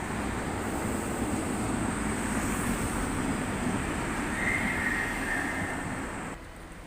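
Prague tram 9304, carrying Turkish Airlines advertising, rolls past in a misty city square, a continuous broad rumbling roar with a faint high whine, steady and fairly close before easing slightly at the end.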